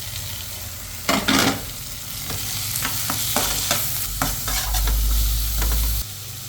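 Tomatoes sizzle steadily in a hot pan while a utensil scrapes and stirs them in repeated bursts, loud and close, with the frying hiss swelling toward the end.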